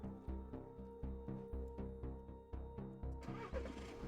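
Vehicle engine starting up in the video game Cataclysm: Dark Days Ahead, a looping mechanical sound with a steady pulsing rhythm of repeated cranking thumps and a tonal hum, heard alone without speech.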